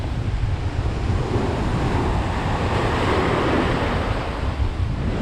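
Steady roar of surf washing onto the shore, broad and continuous, with wind buffeting the microphone throughout.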